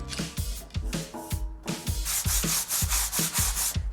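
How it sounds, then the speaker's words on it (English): Sandpaper and a scrubbing brush working loose, flaky rust off an old iron fire basket, with steady rhythmic back-and-forth strokes, close and fairly loud, roughly two per second and no talk. "So all I'm trying to do with the sanding and the scrubbing is to get rid of the loose, flaky rust, the iron"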